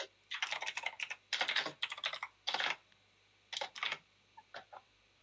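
Typing on a computer keyboard: close, crisp bursts of rapid key clicks in uneven clusters separated by short pauses, with no talking.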